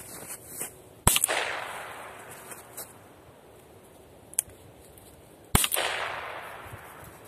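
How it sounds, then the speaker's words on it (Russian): Two sharp, loud starter revolver shots ring out a few seconds apart, each with a brief echoing tail, between a couple of fainter clicks and a quiet background, near a puppy. "у меня есть вот такой вот стартовый револьвер"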